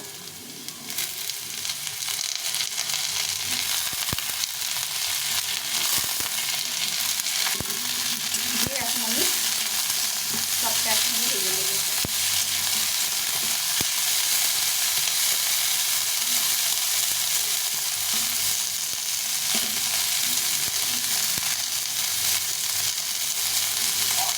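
Bottle gourd peels, potatoes and onion frying in a pan make a continuous loud, close sizzle with occasional stirring scrapes, steady throughout and without voices.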